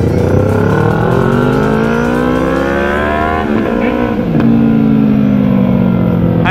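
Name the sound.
Yamaha XJ6, MT and Honda CB1000 motorcycles revving hard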